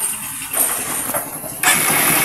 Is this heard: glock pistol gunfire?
no